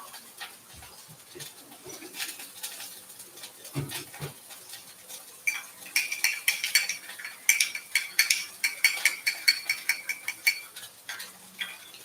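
A spoon stirs hot sauce into mayo in a bowl with soft, irregular scraping and clinking taps, close by, growing busier toward the end, with no talk.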